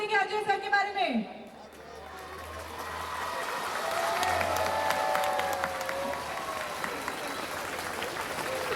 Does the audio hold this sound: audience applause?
yes